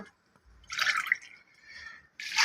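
Water poured into a pot of lentils (daal) in a kitchen, a steady splashing, gurgling stream that rises, eases off, then surges again, close and without talking.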